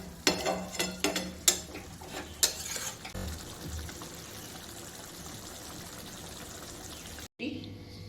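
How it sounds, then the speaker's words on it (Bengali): Hot water poured into a pan of egg and potato curry makes a continuous hissing, bubbling stream, after a few clattering knocks from a utensil at the start, ending in a brief silence. "আর একটু গরম জল দেবেন"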